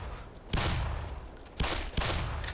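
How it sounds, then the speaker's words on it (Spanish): A few sharp gunshots in the video game Black Mesa ring out with metallic pinging ricochets off a gasoline barrel, spaced irregularly over a steady background hum. "Estoy disparando un bidón de gasolina donde rebotan las balas."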